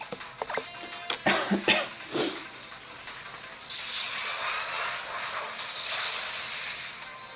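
An electric ball attack launched by a Pokémon in Pokémon Ultra Sun, heard as a sustained bright hissing, crackling energy burst that swells through the second half after a few short clicks and hits, with no talk over it.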